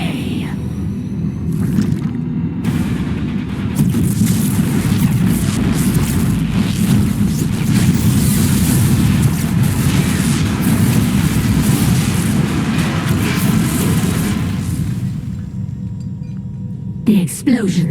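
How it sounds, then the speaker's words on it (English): Sustained heavy explosions in the StarCraft II video game, a loud continuous rumbling barrage of booms that fills most of the stretch before cutting off abruptly near the end. "The explosions have stopped."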